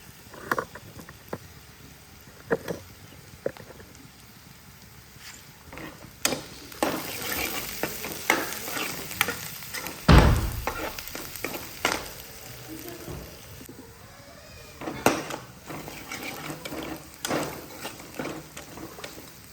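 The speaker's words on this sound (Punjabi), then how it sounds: "ਇੱਧਰ ਆਪਣੇ ਪਿਆਜ਼ ਵੀ ਭੁੱਜੀ ਜਾਂਦੇ ਆ" Onions fry in a pan and are stirred, a soft sizzle under scraping and clattering utensil strokes that grow busier midway, with a loud knock near the middle and a voice faintly in the background.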